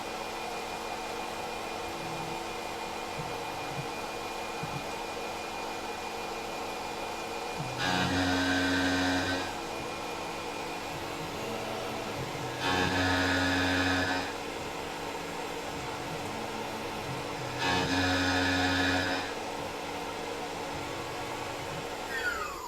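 A Tormach PCNC 1100 CNC mill machines a part in three passes. A steady spindle and coolant hum carries throughout, and three evenly spaced louder cutting bursts, each lasting about two seconds, rise above it.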